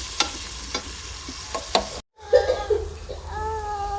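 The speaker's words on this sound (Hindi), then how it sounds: "ऑयल हमारा गर्म हो गया, इसमें प्याज ऐड करते हैं, उसे गोल्डन ब्राउन करते हैं।" Chopped onions sizzle in hot oil in a village-style pan, a steady crackling fry broken by sharp clinks and scrapes of stirring, a brief dropout midway, then continued frying with more utensil clatter.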